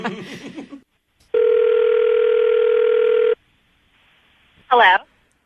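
A steady telephone ringback tone plays while a call is placed to a radio listener, holding for about two seconds between bursts of talk before and after.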